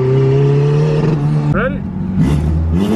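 Turbocharged, rear-wheel-drive K-swapped Subaru Impreza accelerating under boost, engine note climbing and then dropping through a quick shift before rising again, heard close over a brief few seconds.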